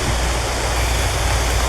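River water runs steadily over pebbles in a continuous, dense rushing wash, close and fairly loud, with no voices.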